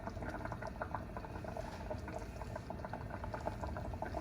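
A pot of tofu and spinach green curry bubbles at a steady boil, with a dense, close crackle of popping bubbles and no voices.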